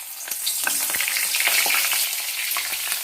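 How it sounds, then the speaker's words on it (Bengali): Turmeric- and salt-coated cauliflower pieces deep-fry in hot oil, giving a dense, continuous crackling sizzle with scattered sharp pops, close and fairly loud, with no talking. "ছাকা তেলে একদম ফুলকপিটা ভেজে নিতে হবে।"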